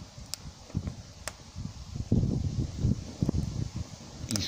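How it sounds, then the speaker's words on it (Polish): Gusty wind buffeting the microphone in uneven low rumbles during an outdoor test of a Finnish-made camping stove, with faint rustling and a few sharp clicks. "Jak widzicie, jest wiatr."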